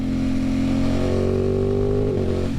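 Aprilia Tuono motorcycle fitted with lightweight 16/45 sprockets for shorter gearing, its engine revving loud and close as it accelerates, the pitch climbing steadily before easing near the end.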